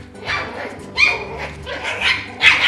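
Mi-Ki puppies bark and yip in playful bursts as a litter tussles over a toy, several sharp high barks close by at irregular intervals over a low rumble.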